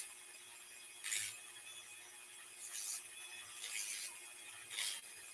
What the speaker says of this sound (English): you can see how I'm just kind of sanding along